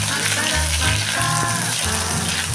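Ginger-garlic paste frying in a wok with a steady, close sizzle and scraping stir sounds, alongside a low, droning hum, and no talking.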